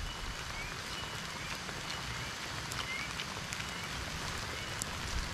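Steady rain falling outdoors during a meal in a rural village, a dense, even hiss of drops on surfaces that holds unchanged throughout with no talking.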